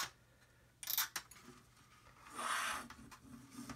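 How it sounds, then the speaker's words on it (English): Dry scraping and rasping strokes of a knife blade against a hard plastic scale model submarine hull, quiet and close, in a few short bursts and one longer pass. "So what I'm going to do first of all is scrape."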